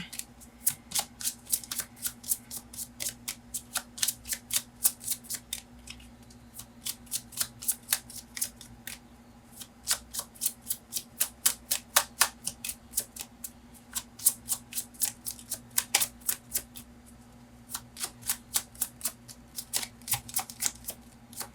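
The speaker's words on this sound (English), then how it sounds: "You can fast forward this shuffling." Tarot cards are shuffled repeatedly, quick riffling bursts in a steady rhythm, close by, over a faint low electrical hum.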